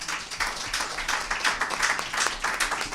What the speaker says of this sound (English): give another round of applause for the Maftir